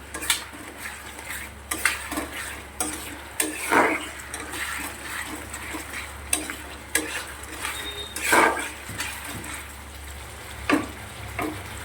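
Katla fish spice masala sautéed in oil in a pan, with a low constant sizzle broken by repeated scraping strokes of a stirring spoon and occasional clinks, close by, with no talk over it.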